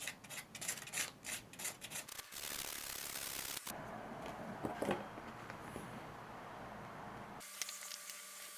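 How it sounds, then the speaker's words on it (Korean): Sandpaper rasps along the cut edge of hand-tanned ostrich leather in short, close scrubbing strokes, followed by a longer continuous rubbing stretch, fairly quiet with no talking. "마르면 사포질로 평평하게 해주고"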